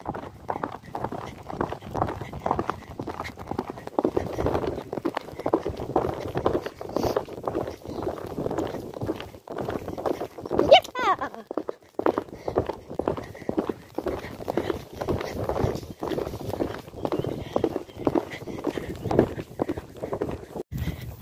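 A horse galloping and trotting outdoors under a rider, with rhythmic close hoofbeats drumming steadily throughout, wind noise and occasional bursts of the rider's voice mixed in.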